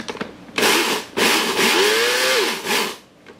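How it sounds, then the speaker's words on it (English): A food processor pulses whole roasted spices for homemade curry powder, giving several loud whirring bursts with brief pauses between them, close up and with no talk. "See how the food processor works."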